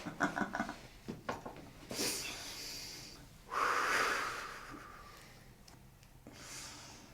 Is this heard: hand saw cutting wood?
no